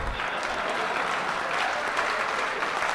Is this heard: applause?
yes